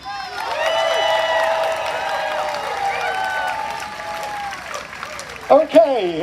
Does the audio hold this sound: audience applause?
yes